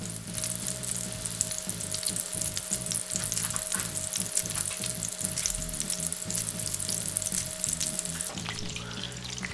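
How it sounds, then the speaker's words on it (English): Steady, loud sizzling of Japanese hamburger steak patties frying in a pan, with crackling spatters throughout and no voices. "Continue to cook in the frying pan for 3 to 4 minutes."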